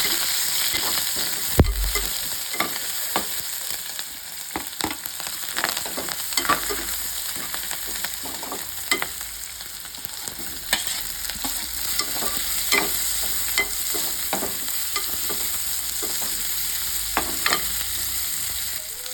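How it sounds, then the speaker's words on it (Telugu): Ginger garlic paste, curry leaves and chopped onions frying in oil, stirred with repeated spoon scrapes and clinks over a continuous close sizzle, no voices. "అల్లం వెల్లుల్లి పేస్టు, కరివేపాకు, ఉల్లి ముక్కలు వేసి కలపాలి"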